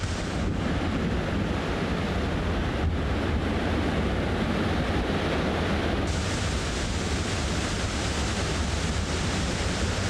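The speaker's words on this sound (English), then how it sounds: "we can now hear the waterfall thundering through the little valley" A steady, dense roar of rushing water fills the scene without pause, broad and constant, a powerful waterfall thundering nearby through a small valley near Big Pine Lakes in the Eastern Sierra.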